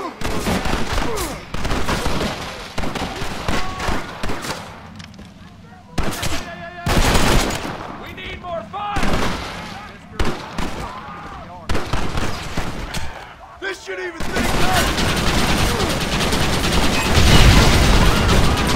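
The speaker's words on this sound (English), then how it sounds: "You man the Gatling gun" Gatling gun fire in Red Dead Redemption, loud rattling bursts broken by short pauses and then a long sustained roar of rapid shots, with voices talking among the noise.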